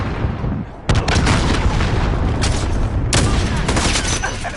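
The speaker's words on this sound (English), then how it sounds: "Enemy cruise missile incoming." Cruise missile strikes in Call of Duty: Modern Warfare land as heavy, continuous booming explosions, with two sharp new blasts cutting in over a dense roar of gunfire and rumbling artillery.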